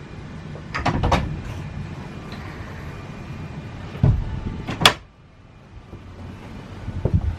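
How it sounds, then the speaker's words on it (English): A cabin door on a 2019 Boston Whaler 380 Realm is pulled shut, with several clattering knocks and then a firm thud near the end, close by, with wind noise around it. "And then you can shut that door, and now you're completely enclosed"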